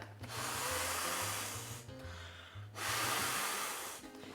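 Breath blown into the air pocket of an insulated freezer bag in two long, loud puffs with a short pause between, close up and without talk.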